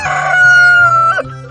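A rooster crows loudly and close by, one long drawn-out cock-a-doodle-doo that rises, holds and drops off abruptly, alone without voices.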